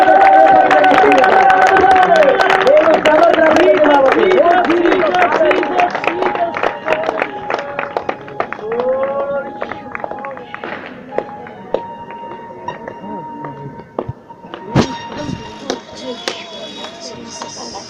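A congregation at a healing crusade claps hands in quick, scattered bursts, heard under a man's loud, continuous preaching that dominates throughout.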